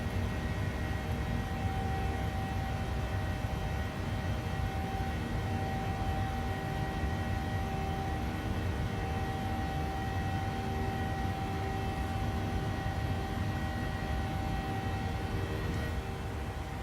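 Steady, loud roar of a PMDG 737 jet's engines during takeoff in Microsoft Flight Simulator, a dense unbroken rumble with a faint tonal whine running throughout and no pauses.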